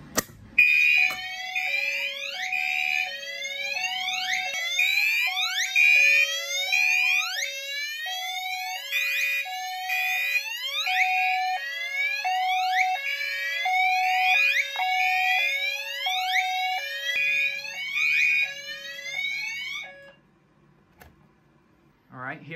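A Fire-Lite MS-9600UDLS fire alarm system sounds after a BG-12L pull station is pulled: loud, close, rapid sweeping electronic whoops repeat for about twenty seconds, then cut off.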